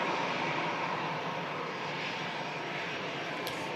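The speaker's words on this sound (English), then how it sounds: "Corendon, next to landing from Antalya as this EasyJet from Naples vacates in front of us" An EasyJet passenger jet on the runway at Manchester Airport, a steady, fairly distant engine roar holding an even level throughout, with no talk over it.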